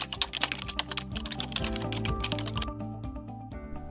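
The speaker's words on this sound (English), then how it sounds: "Then type your new prompt." A prompt being typed on a computer keyboard, rapid clicking keystrokes in steady bursts that pause near the end, close and clear over soft background music.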